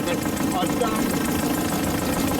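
Steam launch engine running on the Whanganui River in New Zealand, a steady low mechanical chug and hum with no break, while a person talks over it.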